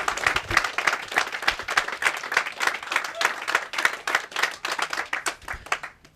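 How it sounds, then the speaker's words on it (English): An audience at a community development gathering gives a round of applause, with many hands clapping in a dense, steady burst that lasts several seconds before tapering off at the end. "I think we should give them a round of applause."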